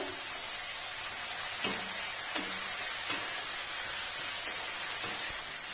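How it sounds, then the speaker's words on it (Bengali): Ginger garlic paste sautés in a hot pan for chhole, giving a steady, hissing sizzle with a few soft scrapes of stirring, no talk. "আদা রসুনের কাঁচা গন্ধটা যাওয়া পর্যন্ত এটাকে আমি খুব ভালো করে একবার কষবো"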